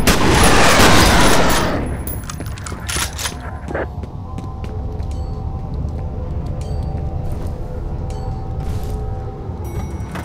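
Gunfire in the first-person shooter F.E.A.R. rattles in a loud, dense volley for about two seconds, then a scattering of sharper single shots and clicks follows over a low rumbling game background.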